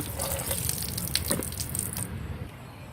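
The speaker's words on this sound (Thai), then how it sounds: "ล้างแบบนี้เลยมีติดผงอะไรต่างๆจะได้ไหลลงไปกับน้ำ" Tap water runs steadily while ingredients, such as mint, are rinsed under it for a slimming herbal drink; the close, even gush lasts about two seconds and then cuts off.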